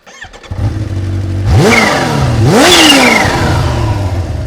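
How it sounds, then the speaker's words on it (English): A supercharged Kawasaki Ninja H2 motorcycle engine idles, then revs sharply twice with rising, snarling whines, loud and close, settling into a steady high drone. "This is the beautiful sound of a supercharged engine"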